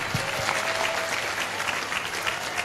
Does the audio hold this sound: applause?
yes